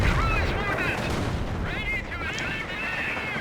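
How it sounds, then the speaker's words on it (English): Anti-tank guns fire in a WWII strategy video game, dense continuous rumbling gunfire and explosions under a voice talking throughout. "Oh, but these AT guns are going to kill it."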